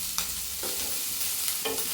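Soft continuous sizzle of onions sautéing in a pan with green chillies and curry leaves, with a few light scraping stirs of a utensil.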